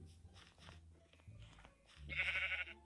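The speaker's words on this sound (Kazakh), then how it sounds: "Ей, қара, қойларға." Sheep in the video game Minecraft give several short bleats that come in quick succession and build to a louder, nearer cry at the end.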